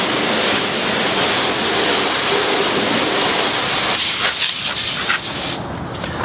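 Fire Hose nozzle spraying a smooth stream of water to rinse a car, a loud continuous rushing hiss that shifts a little toward the end before easing off.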